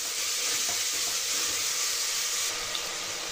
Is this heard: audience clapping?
no